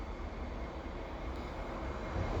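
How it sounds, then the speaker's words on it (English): A CN freight train led by SD75i and SD70M-2 locomotives, hauling snow-covered tank cars, rolls slowly through the Dorval area of Montreal in winter, a faint, distant, continuous rumble with no talking. "we got a nice CN train coming through"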